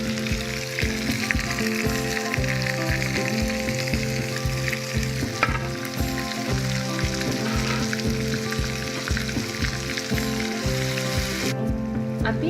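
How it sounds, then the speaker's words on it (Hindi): Chicken pieces with tomato frying in oil over a medium flame, a steady dense sizzle with faint stirring scrapes running the whole time, close and fairly loud, no talking. "अभी आपने इसको मीडियम आंच पर पकने देना है, जब तक चिकन फुली कुक्ड हो जाए"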